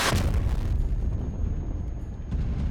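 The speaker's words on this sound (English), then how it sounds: "gonna shoot an artillery shot on that dude over there" A cannon fires an artillery shot in a naval combat game, a heavy booming blast at the start followed by a rumbling decay that swells slightly again toward the end.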